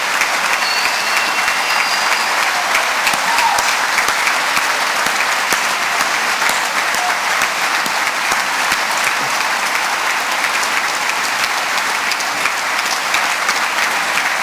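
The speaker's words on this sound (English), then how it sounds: "Would you all give these folks a round of applause for their courage and their service to our country?" A large crowd at a Super Bowl 50 breakfast gives sustained, loud applause for military veterans, a thick, even roar of clapping lasting the full stretch with no pause.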